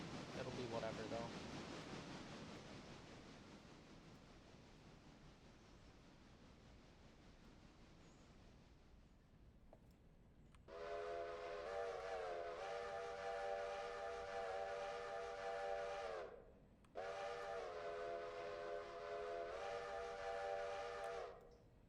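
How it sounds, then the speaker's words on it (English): Steam locomotive whistle in the railroad game Railroader, sounding two long sustained harmonic blasts separated by a short gap, loud and steady, following a stretch of quiet low rumble. "Nice little whistle show."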